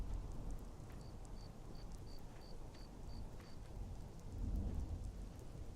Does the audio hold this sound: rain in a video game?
yes